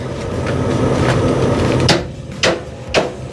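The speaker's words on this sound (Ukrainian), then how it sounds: "Будемо вибивати піни з молоточком" A small hammer knocks at stuck pins on a semi truck, giving three sharp metallic strikes in the later half over a steady engine rumble, with no talk.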